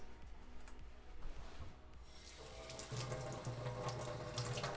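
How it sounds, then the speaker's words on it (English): Tap water runs steadily into a kitchen sink as a cucumber is rinsed under it, a continuous close splashing stream with some rubbing and handling noise, growing fuller toward the end. "Does this cucumber need a little rinse?"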